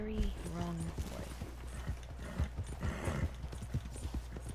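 Horse hooves clip-clop steadily in Red Dead Redemption 2 as a very large horse moves along, a continuous rhythmic patter of close footfalls under someone talking throughout.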